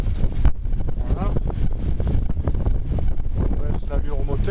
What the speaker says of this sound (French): On baisse l'allure au moteur.